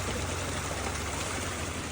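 A cold, clear mountain spring in Bashu Valley, Skardu, flows close by with a constant, full rushing and gurgling wash of water and no pause.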